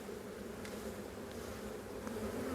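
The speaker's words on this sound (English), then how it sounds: "The fellow told me to shake the bees off of this one" Honey bees hum in a dense, steady drone at an open hive during an inspection, a low continuous buzz with a few brief louder passes near the listener and no talking.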